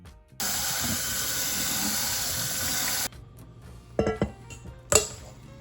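Boiled vermicelli noodles are tipped out of a pot into a strainer, a loud steady rush and hiss of pouring water for about three seconds, then a few clanks and knocks of the pot and colander.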